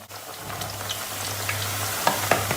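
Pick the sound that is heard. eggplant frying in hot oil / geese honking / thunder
eggplant frying in hot oil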